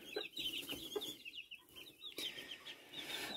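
Hens cluck softly and repeatedly in a backyard poultry pen, a series of short, faint calls with a few sharper squawks and no talking.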